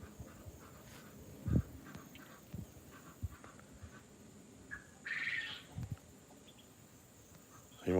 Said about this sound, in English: You on ducks? Yeah, ducks.